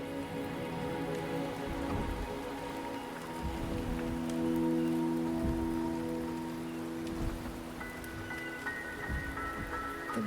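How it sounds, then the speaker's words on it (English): Rain falling in the video game Wuthering Waves, a steady soft patter of drops on surfaces under a layer of sustained background music, no talking. "The rain is subsiding"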